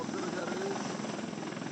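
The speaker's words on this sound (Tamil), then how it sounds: "ஹெலிகாப்டர் மூலமாக பாதிக்கப்பட்டவரை மீட்கும் பணி நடக்குது நம்ம பார்க்கிறோம்" A helicopter flies over during a flood rescue operation after heavy rain in Nellai, Tamil Nadu, its steady rotor thrum and engine drone loud and continuous, with a voice talking faintly beneath.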